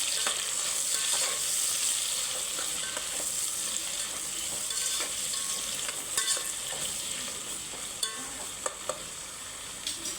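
Onions and green chillies frying in oil for Hyderabadi bagara rice, stirred with a spatula; a bright, steady, close sizzle with scattered scraping clicks, no voices.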